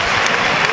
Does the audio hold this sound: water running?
no